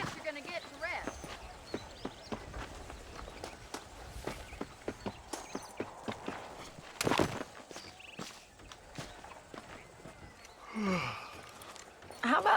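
Horse hooves clopping in a steady rhythm while riding in the Western video game Red Dead Redemption, moderately faint under voices talking, with a few louder thumps toward the end.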